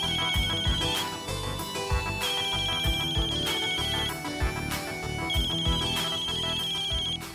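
A telephone ringtone repeats in loud, evenly spaced electronic bursts with short pauses between rings, alone with no talk, in a French-dubbed Indian drama series.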